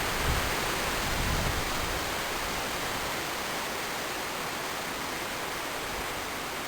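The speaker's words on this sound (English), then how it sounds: "I apologise for the wind today" Steady, loud wind rushing and buffeting, a constant broadband roar with low gusty rumbles, no voices.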